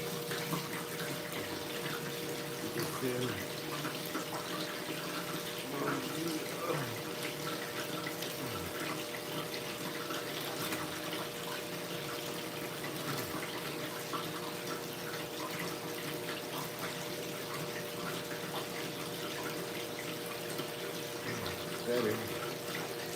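Fresh water pours steadily into a bucket during an outdoor gold-prospecting cleanup, a continuous close splashing stream lasting the whole stretch, with voices talking intermittently over it.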